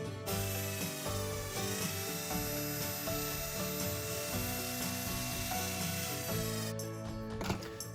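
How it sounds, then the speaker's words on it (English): Steady high-pitched whine of a Dremel rotary tool drilling with a tiny bit, running continuously, with a rough grinding texture and a brief change near the end. "Using the Dremel with a little itty bitty baby drill bit"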